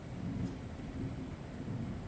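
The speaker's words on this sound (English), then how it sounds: "And you can hear that thunder again." Thunder in a horror film, a low, distant rumble rolling under steady rain, faint and continuous with no voices.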